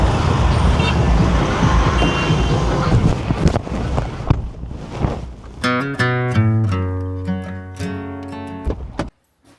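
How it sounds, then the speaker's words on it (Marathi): Heavy road traffic rumbles loudly and continuously nearby, followed by a run of sustained, tonal vehicle horn blasts before everything cuts off abruptly. "मोठा ट्रॅफिक झालाय जरा"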